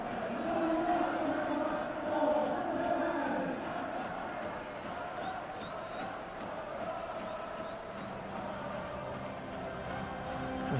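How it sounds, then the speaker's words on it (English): Artificial stadium crowd noise piped in during a football match at a Bangkok stadium built for the 1998 Asian Games, a steady broad murmur of chanting and cheering throughout, fairly loud and continuous with no clear speech on top. "We have got a bit of false crowd noise, as you can hear, just to try and create a little bit of atmosphere for the players."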